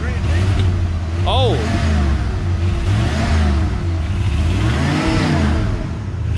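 Engine of a 1968 Ford F100 pickup revving steadily while the transmission fails to pull, a loud, close, droning mid-pitched roar with slight swells, and people talking over it.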